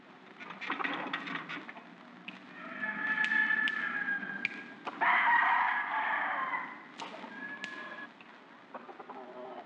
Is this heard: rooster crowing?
yes